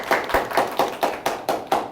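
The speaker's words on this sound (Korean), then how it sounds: "박수를 쳐주셨는데" An audience at a lecture on creative thinking and project success claps in a slow, even rhythm, eight distinct sharp claps spaced about a quarter second apart, fairly close and clear with no talk.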